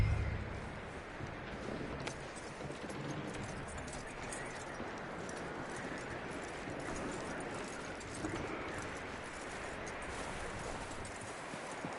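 A horse walking in the Red Dead Redemption 2 video game, steady clip-clop of hooves at moderate distance over a soft ambient game backdrop, no talk.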